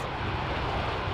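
A Boeing 747-200 classic jetliner makes a flyby in the X-Plane 11 flight simulator. The engine roar is steady and broadband, and it sits fairly quiet and even across a brief moment with no talk.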